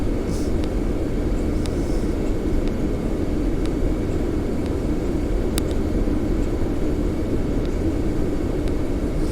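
Steady, loud engine drone from an Airbus A320 in a flight simulator game, an even broadband roar with occasional faint clicks over it throughout.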